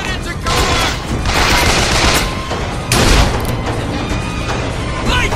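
Hand cannon gunfire in the video game Bioshock: loud, dense bursts of shots and booming impacts over a constant roar of combat noise, with heavier blasts near the start and around three seconds, while a voice speaks underneath.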